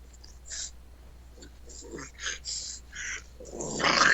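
A dog held on its back growls low and whines softly in short, breathy bursts, close and fairly quiet, with a louder rustling burst near the end and no speech.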